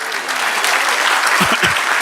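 A church congregation claps loudly during a prophetic sermon, a brief burst of dense, steady applause with a voice briefly rising underneath.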